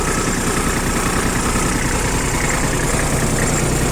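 A Japanese compact 4WD tractor with loader and tiller idling nearby, a steady, dense mechanical rumble with low chugging pulses and no voices.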